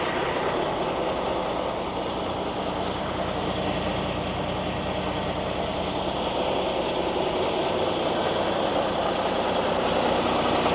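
A Kenworth K220 truck with an X15 Cummins rated at 620 horsepower idles steadily nearby, a continuous low diesel rumble with no pauses.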